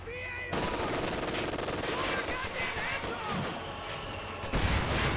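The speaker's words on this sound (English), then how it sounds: "I believe it is a mortar barrage." A mortar barrage in the World War II strategy game Company of Heroes 2 lands amid a busy battle, with booming impacts, rattling gunfire and explosions packed together, while a caster keeps talking over the din.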